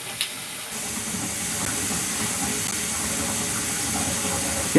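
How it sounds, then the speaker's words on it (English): Water from a bathroom basin runs through the small overflow opening and drains down the pipe, a steady rushing hiss that holds evenly throughout with a brief louder gurgle at the very end. "Yep, that's draining down."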